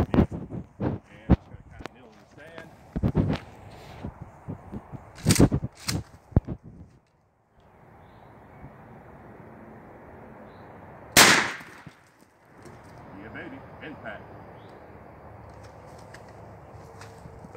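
A shotgun slug fired outdoors through a stack of 150 paper plates, with a single loud, sharp blast partway through that follows a stretch of clatter, handling noise and people talking.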